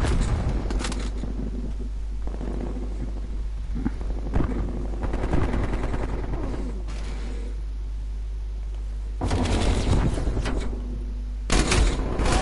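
Hostile sentry turret firing in Black Ops, heard as bursts of automatic gunfire with louder clusters near the middle and again near the end, over a steady low game hum.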